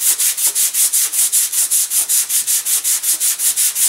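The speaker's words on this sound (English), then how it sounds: "I'm going to sand away at the back here." Fast, even back-and-forth sanding strokes on a model airplane's wooden propeller blade, about four rasps a second, close and steady with no talking.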